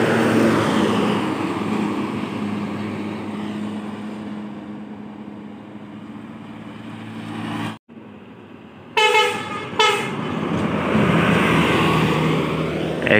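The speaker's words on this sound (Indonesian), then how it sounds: "Ini juga bus pariwisata." A large tour bus roars past on a ring road in Ngawi, Indonesia, its rumble fading away before a loud horn sounds twice, then traffic noise swells again.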